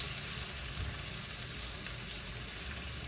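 Steak sizzling steadily in a hot pan on the stove, a continuous close hiss and crackle of frying fat running unbroken and fairly quiet, with no talk over it.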